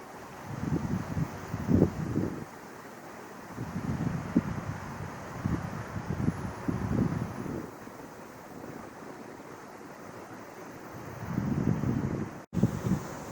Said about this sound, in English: I love this wind